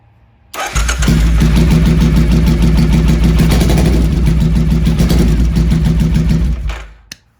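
A carbureted Triumph America motorcycle fires up and runs steadily at a low idle for about six seconds, a loud, close, throbbing engine note that barely revs as the carburetor runs low on fuel, then cuts off.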